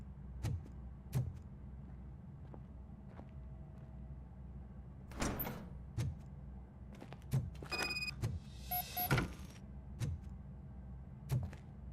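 A door opens in the video game RoboCop Rogue City with mechanical clunks and a whirring slide, among scattered thuds and clicks over a quiet low hum, close but modest in level, with no talk.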